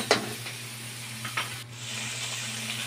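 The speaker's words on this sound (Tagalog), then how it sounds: "Then continue saute. Saute for more minutes." Pechay (bok choy) sautéing in a pan, a steady soft sizzle and hiss with a few faint stirring clicks, continuous and close, with a low steady hum underneath.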